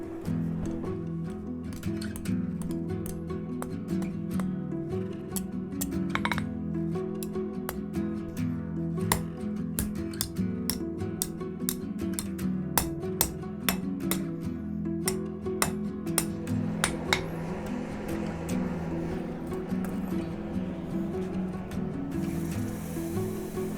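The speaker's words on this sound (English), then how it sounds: "I'm just going to hammer out this wee bit here" A blacksmith hammers hot steel at a heritage forge: dozens of sharp, ringing blows land in quick irregular bursts over a steady low hum, close and loud, with no voices.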